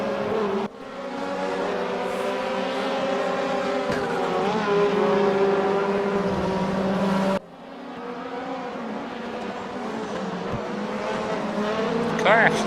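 A front-wheel-drive race car corners hard, its engine droning steadily with tire squeal, and a brief break midway before the engine note rises again. A voice talks over it.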